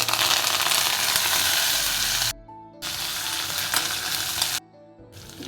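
Cumin, cashews, ginger, green chillies and curry leaves sizzle hard in hot oil for a South Indian khara pongal tempering, a loud, steady frying crackle broken by two short gaps.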